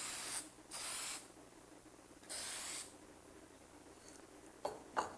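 Three bursts of lacquer finish spray out of a can in hissing blasts about a second long, with quieter pauses between them, followed by a couple of short, sharper sprays at the end.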